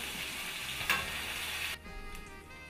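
Steady loud sizzling of chicken pieces frying in hot oil in a pot, with a brief stir or clatter midway before the sizzle quiets somewhat.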